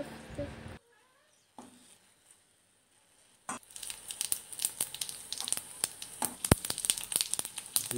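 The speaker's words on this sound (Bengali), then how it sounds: "তেলটা গরম হয়ে গেছে, এখন তেলের উপরে দিতে হবে শুকনো লঙ্কা, তেজপাতা ও জিরা।" Dried red chilli, bay leaf and cumin seeds hit hot oil after a near-silent pause, bursting into a busy, crackling sizzle with sharp pops that continues steadily and close.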